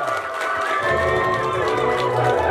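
Wedding guests applaud and cheer for the newlyweds, a dense, steady wash of clapping and shouting that fills the whole stretch.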